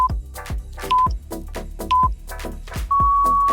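Three short electronic beeps at steady intervals, then a longer closing beep, over a thumping upbeat music track.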